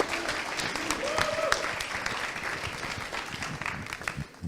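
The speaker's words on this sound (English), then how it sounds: "Give him a round of applause." Steady applause from an audience fills the whole stretch, dense clapping at a constant level, with a brief voice rising above it early on.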